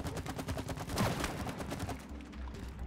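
Rapid bursts of video game gunfire as players fire at a bridge in It Takes Two, a dense fusillade of repeated shots that runs steadily and fairly loud throughout.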